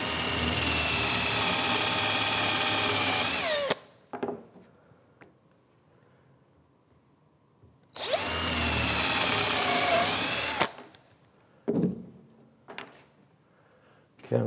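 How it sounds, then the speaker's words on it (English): Power drill boring a 3/16 inch hole through the midsection of a wooden workbench piece, two loud sustained runs of several seconds each separated by quiet, with brief handling knocks in between. "Put a hole right through the midsection of this piece here."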